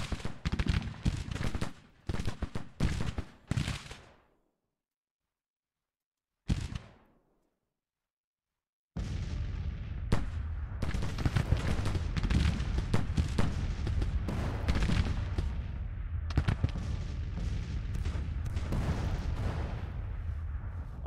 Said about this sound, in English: I'm honestly surprised my artillery is able to fire at all, let alone to have been firing more or less this entire time.